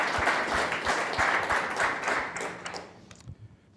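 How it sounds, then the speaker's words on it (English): Audience applause for panelists and a moderator closing a discussion event on democracy, dense clapping from a crowd that holds strong, then thins out and fades to a few scattered claps. "Can we give a round of applause to our panelists and our moderator?"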